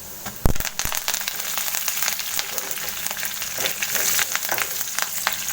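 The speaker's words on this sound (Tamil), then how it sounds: "அடுத்து உளுந்து, பச்சைக்கடலை பருப்பு போட்டு நல்லா வணக்கிக்குங்க" Urad dal and chana dal frying in hot oil for lemon rice, giving a loud, steady, dense sizzle and crackle with a few sharper pops near the start, alone without talk.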